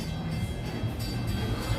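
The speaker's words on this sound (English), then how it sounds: "I hear the train coming in now." A train pulls in at the station at Disney's Animal Kingdom with a steady, dense rumble and rattle that fills the whole stretch, loud and continuous with no voices.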